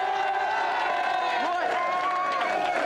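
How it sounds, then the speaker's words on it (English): A television studio audience cheers for a game-show team, a dense sustained roar of voices and whoops with applause mixed in. "let's have a big cheer for this team, the Live Wires."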